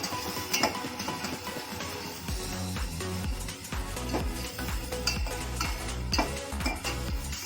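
Steady scraping and clinking of a utensil stirring chicken palak curry in a pan, with soft sizzling underneath; continuous and close, no voices.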